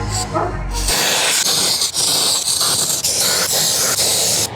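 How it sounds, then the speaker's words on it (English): An aerosol can of brake parts cleaner sprays in a loud, continuous hiss, with a few short breaks as the nozzle is released and pressed again. "Brake parts cleaner."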